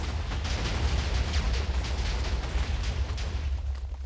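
A Minecraft sulfur cube TNT cannon firing and detonating, heard as a dense rumbling wash of overlapping explosions with crackling bursts, steady and fairly loud throughout with no talking.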